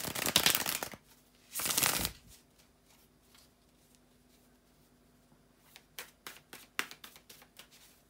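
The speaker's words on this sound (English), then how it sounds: "bear with me a second, guys, to shuffle the tarot cards" Tarot cards are shuffled in two loud riffling bursts, followed by quieter scattered taps and flicks of cards being handled close up.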